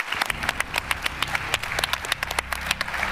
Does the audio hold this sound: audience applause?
yes